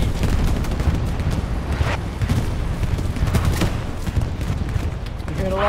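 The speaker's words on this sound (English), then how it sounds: "You heard a lot of bombs!" Dense, continuous rumble of explosions and gunfire in a war video game, loud and sustained with booms layered over steady battle noise throughout.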